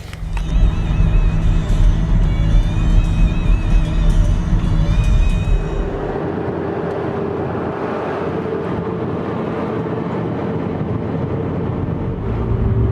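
Car cruising along a road in Mexico, a steady loud cabin rumble with wind noise throughout and no talk; a higher whining tone in the first half drops away after about six seconds.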